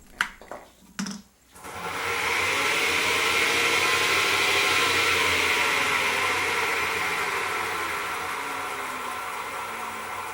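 An acrylic pen blank spins on a wood lathe at about 370 RPM. A few knocks come first, then a loud, steady whirring hum that fades slightly toward the end.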